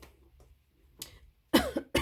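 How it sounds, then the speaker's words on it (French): Two short coughs, near and fairly loud, after a few quiet seconds with faint indistinct murmuring. "pardonnez-moi hein, pour cette petite toux"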